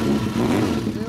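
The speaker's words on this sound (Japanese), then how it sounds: "エンジン音聞かして" A 1986 Kawasaki Z400GP motorcycle fitted with a Pretty Racing muffler runs its engine in a steady, loud, near rumble, holding a continuous low tone with slight rises.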